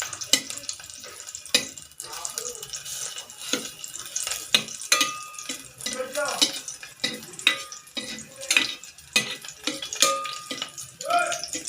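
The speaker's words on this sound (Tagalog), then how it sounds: "Kailangan natin pa brown muna ang bawang." Garlic browning in a pan for an alugbati and sardine dish, with a soft sizzle broken by frequent sharp clinks and scrapes of a utensil stirring against the pan, close and moderately loud.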